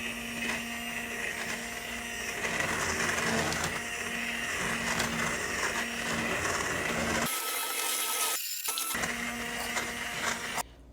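An immersion blender on medium speed whirs steadily through watermelon rind preserves for about seven seconds, loud and close, then cuts off, leaving brief quiet and a few small handling sounds.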